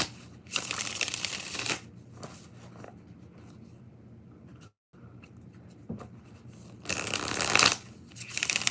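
Tarot cards being shuffled in bursts, with loud riffling runs at the start and end separated by quieter handling and a brief pause, close to the mic with no voices.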